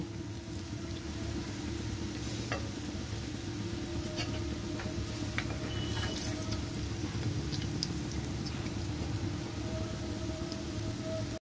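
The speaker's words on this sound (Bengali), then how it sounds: "পেঁয়াজ ভাজার তেলেই আমি ভালো করে ধুয়ে নিয়েছিলাম শুটকি মাছগুলো ছেড়ে দিচ্ছি" Washed dried fish (shutki) dropped into hot oil left from frying onions, giving a steady, even sizzle and crackle that holds at a constant level throughout, with no voices.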